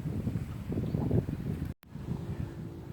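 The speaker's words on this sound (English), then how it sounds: "It's a bit breezy at the moment." Wind blows along a straight canal past moored boats, a steady buffeting rumble on the microphone that is briefly cut off before resuming, with no speech.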